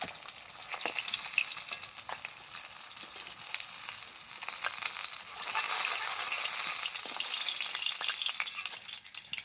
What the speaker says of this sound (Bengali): এবার বাকি যে মাছ কটা আছে ওই কটাও ভেজে নেব।